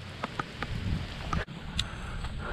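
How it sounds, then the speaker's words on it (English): Rain beginning to fall outdoors during an August deer hunt patters lightly and sparsely, with scattered drop taps and faint rustling over quiet outdoor ambience. "it's starting to rain"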